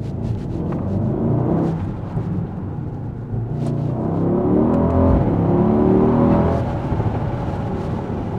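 A Mercedes-AMG GLE63s SUV accelerates hard in first gear with a window partly lowered. A deep, rumbling engine roar swells and surges throughout, loud and close, with no voices over it.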